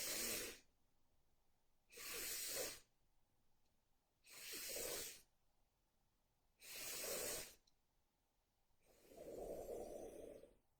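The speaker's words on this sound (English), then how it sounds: "There's going to be 4 short and 1 long breath." Breathwork sequence of four short, forceful breaths followed by one long, drawn-out breath, each a loud airy rush separated by quiet pauses, close to the listener with no talking.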